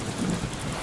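Rain and rumbling thunder of a thunderstorm in the Deadpool video game on PC, a steady, moderately loud wash of rainfall with a low thunder swell partway through, no voices.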